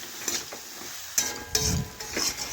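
Bottle gourd stems sautéing in a pan, a short stretch of sizzle with a few sharp stirring scrapes and utensil knocks at irregular intervals, close and unaccompanied by voices.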